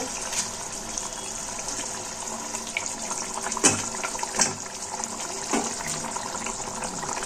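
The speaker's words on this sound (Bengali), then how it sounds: "আমার ঝোলটা ভালোভাবে ফুটে গেছে, এবার আমি মাছগুলো দিয়ে দেব।" Fish curry gravy boils steadily in a pot as fish pieces go in, a continuous watery bubbling with a few louder splashing plops near the middle and end; no one speaks.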